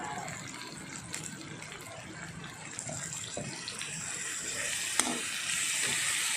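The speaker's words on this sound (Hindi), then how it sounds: "और अब हम डालेंगे इसमें थोड़ा सोया सॉस।" Soy sauce poured into a hot kadhai for soya manchurian, giving a steady, bright hiss and sizzle that swells slightly toward the end, with a few small clicks.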